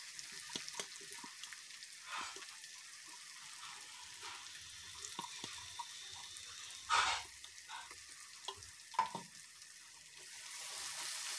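A ground paste of chili, garlic and shallots fries in hot oil while being stirred for smoked-fish sambal. A steady soft sizzling hiss runs throughout, broken by occasional clinks and scrapes of stirring, with no voices.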